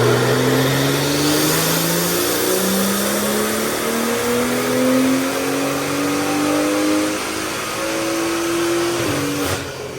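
BMW 340i (F30) with an upgraded B58 turbo engine on E40 fuel, held at full throttle on a dyno in sixth gear: a loud, steady rising engine drone climbing through the pull, then a sharp drop as it lets off near the end.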